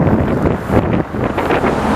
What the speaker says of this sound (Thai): ลมพัดเข้าหาตัวตลอดครับเข้าพัดเข้าหาหน้าตลอดเลยนะครับ